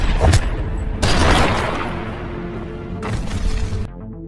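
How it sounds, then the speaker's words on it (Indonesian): Gunfire in an action film, several sharp loud booming shots in quick succession, each with a crackling, shattering tail, close and dominant with no talk. "Lucas berusaha menembak Goro, namun sayangnya, tembakan malah Lucas meleset."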